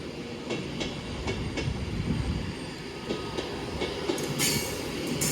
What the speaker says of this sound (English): Alison is heading off to London Euston. Next stop, Wilmslow